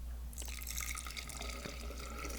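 Cotton candy grape juice poured from a cup through a mesh strainer, a steady close splashing trickle with drips that starts a moment in and keeps running without a break.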